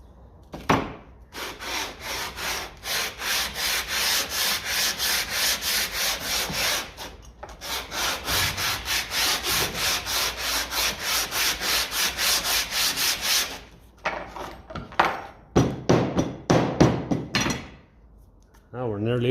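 Fresh sandpaper rubbing back and forth on the thermostat housing of a 1957 Ferguson FE35 TVO tractor, long runs of rhythmic rasping strokes up close, then a few scattered scrapes and knocks.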